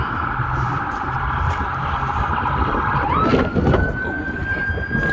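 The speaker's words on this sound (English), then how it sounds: "We got some ambulance action over there." An ambulance siren passes outside near a pizza shop in Warren, Michigan, loud and steady over traffic rumble, its wailing tone sliding upward partway through as the vehicle goes by.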